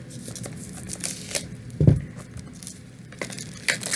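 Cellophane wrap is torn and crinkled off a tarot deck box in quick, close rustling bursts, with one louder rip near the middle.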